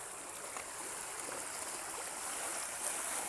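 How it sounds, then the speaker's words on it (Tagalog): Water rushes steadily in a broad, hissing flow that holds constant throughout, with no speech. "Lakas ng tawag ng tubig."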